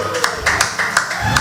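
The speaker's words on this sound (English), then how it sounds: "Clap, come on, clap, clap." An audience claps in a loose rhythm of sharp, close hand claps roughly every fifth of a second, with talk running underneath.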